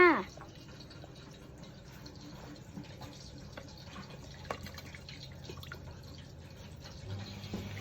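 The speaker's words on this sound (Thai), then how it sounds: "แล้วก็มาใส่มะขามเปียกลงไปเลยจ้า" Tamarind juice is poured into a pot of Thai sour curry with mullet fish, giving soft dripping and trickling liquid sounds, fairly faint and close, while someone talks over it.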